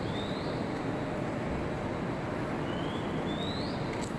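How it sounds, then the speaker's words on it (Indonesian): Birds chirp faintly in the city of Kuala Lumpur, with a few short rising calls rising over steady, loud urban background noise. "Dengar tak bunyi burung?"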